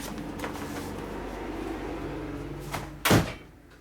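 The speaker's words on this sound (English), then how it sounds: "Close the door." A single door shuts with a short thud near the end, after a few seconds of steady low background rumble.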